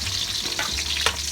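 Onions sautéing in a pan while cooking milkfish in salted black beans, a dense steady hiss with a couple of brief stirring scrapes, heard close.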